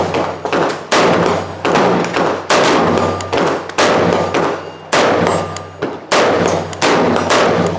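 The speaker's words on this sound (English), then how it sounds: "I'm gonna try and just keep shooting so that way we don't run into any cycling issues." Gunshots from a firearm fitted with an Elftmann Apex trigger, loud close reports fired in a fairly steady series of about a dozen shots with short gaps, no talk.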